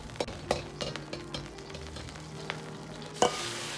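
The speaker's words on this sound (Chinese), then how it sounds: "油热后下入姜葱，煸炒出香味" Ginger and scallion stir-frying in hot scallion oil in a wok, a soft steady sizzle broken by scattered clinks and scrapes of a utensil against the pan, with one sharper clatter near the end.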